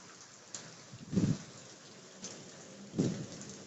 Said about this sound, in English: It is hailing, y'all.